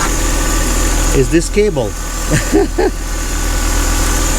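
A Mercedes W209 CLK engine idles with a steady low hum and faint knocking vibration throughout, while someone speaks briefly over it in the middle.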